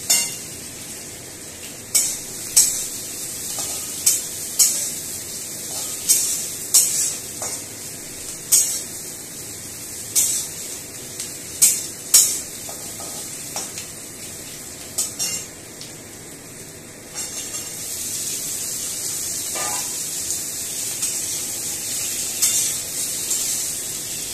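Half-boiled potatoes tumble into onions already frying in a pan, with a steady sizzle broken by a regular series of sharp scraping and stirring clicks, close and fairly loud, with no voices.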